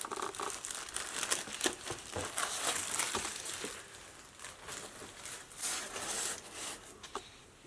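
Plastic bag crinkling and rustling continuously as a Home Decorators pendant light kit is unpacked, close and fairly loud, with bursts of crackle and short pauses.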